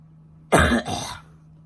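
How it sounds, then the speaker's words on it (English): One close, rough cough from someone feeling under the weather who has gone back to smoking and vaping: a harsh two-part throat-clearing burst lasting about half a second, heard over a faint steady hum in a quiet room. "Apologize if I'm coughing."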